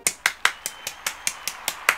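Clapping in celebration of Aunt Darcy: about ten quick, evenly spaced claps, crisp and close, with no voices alongside.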